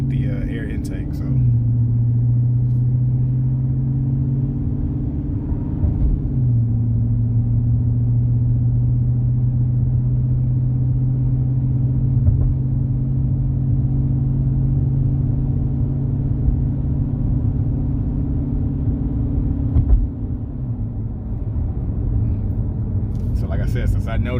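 A Dodge fitted with a Hellcat lower air box and K&N high-flow filter cruises in regular mode, a steady low engine rumble with a couple of gear-change shifts in pitch, heard from inside the car.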